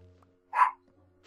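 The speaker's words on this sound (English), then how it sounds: "And my dogs are barking in the background." One of a pair of household dogs gives a single short bark from another room, faint and distant, over an otherwise near-silent room with low background hum.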